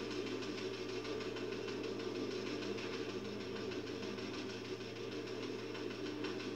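A steady, droning helicopter engine hum with a low throb in Battlefield 4 runs throughout, constant and fairly loud, with no voices.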